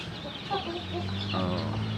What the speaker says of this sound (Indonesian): Itu induk ayam kampung.